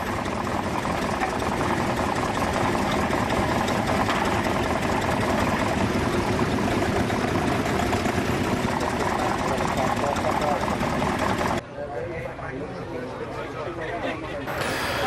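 1915 Case 12-25 tractor engine idling, a loud, steady, rough mechanical drone that holds evenly and then drops suddenly to a quieter running sound.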